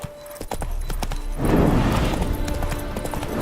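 A horse in The Witcher 3 clip-clops along with steady, fairly close hoofbeats that grow louder partway through, over a continuous game ambience with no talking.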